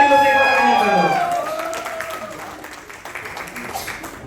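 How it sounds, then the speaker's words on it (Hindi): Party crowd greeting actor Adarsh Anand with applause and cheering, loud at first under a host's voice, with whistles and shouts that fade into a softer, steady clapping wash. "हम सभी के पार्टी में लाने वाले जान आदर्श आनंद जी का जोरदार तालियों से स्वागत करो।"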